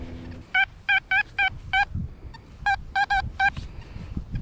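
Target tones from an XP Deus metal detector with an X35 coil, hunting in a park: about ten short, loud, harmonic electronic beeps in two irregular bursts over faint outdoor background.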